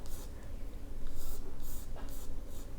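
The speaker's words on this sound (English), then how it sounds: "let's go ahead and draw in the pot. So we're just gonna draw two sides to the pot like this" Pencil scratching on paper while sketching a pot, with short brisk strokes repeated in bursts, close and moderately loud against a quiet room.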